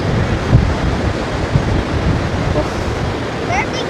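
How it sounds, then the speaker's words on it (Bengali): Strong wind buffeting the microphone at the confluence of the Spiti and Sutlej rivers, a constant loud roar with gusty bumps. "এখানে মারাত্মক হাওয়া দিচ্ছে"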